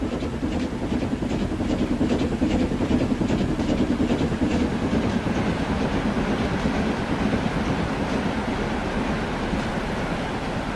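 A train in a rail simulation game rolls past steadily, with a continuous rumbling hiss and faint rhythmic clatter of wheels on track holding for the whole stretch.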